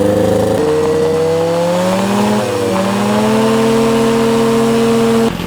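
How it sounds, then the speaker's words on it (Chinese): A homemade ultralight aircraft engine drones loud and close at full throttle, its steady buzzing tone rising and shifting slightly as it revs, with no voices. "现在轰几个大油门试一下。"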